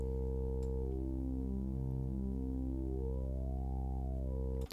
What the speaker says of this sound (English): But sweeping through the wavetable, it sounds like this.